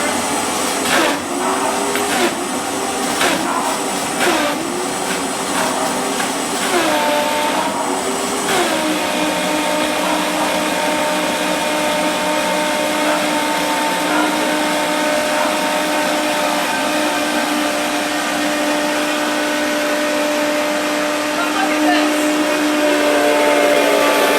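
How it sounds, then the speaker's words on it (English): A Vitamix blender blends firm tofu with water, roaring loudly and steadily at close range, with uneven churning at first that settles into a smooth, constant whir. "So that's when you know your Vitamix is doing its thing"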